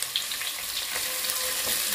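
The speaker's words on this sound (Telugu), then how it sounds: "ఆనియన్స్ ఫ్రై అవుతున్నాయి" Sliced onions frying in a pan for Rayalaseema-style bagara rice, a steady, close hiss of sizzling oil running throughout with faint stirring clicks and no voices.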